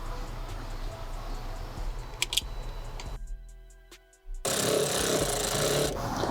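A power driver runs in bursts fastening T15 Torx screws on the cold air box of a C8 Corvette, with a short gap of quiet and clicks between loud buzzing runs.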